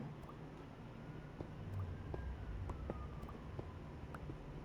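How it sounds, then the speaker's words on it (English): Wailing ambulance siren in a video game, faint and somewhat distant, its pitch sweeping in long glides over a low rumbling background with a few soft clicks. "Got the ambulance coming around."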